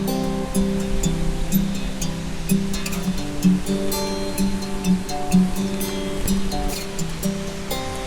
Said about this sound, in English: That's Hukilau Beach, world famous Hukilau Beach.